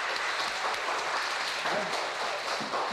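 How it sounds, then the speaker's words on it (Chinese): Applause from a ballet class encouraging a student after a jump, steady clapping under the dance teacher's ongoing talk. "掌声给他鼓励一下"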